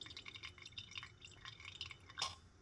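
Water drips through a Mag 600 fountain pen as it is flushed clean: faint, quiet drops fall one after another at an irregular pace, with a slightly brighter splash near the end.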